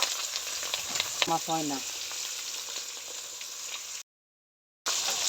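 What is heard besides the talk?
pabda fish frying in a pan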